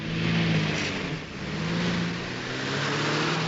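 Engine of a Mercedes-Benz G-Class W460 working steadily while it crawls off-road over rough, rocky ground, a continuous near drone that rises and dips slightly in load.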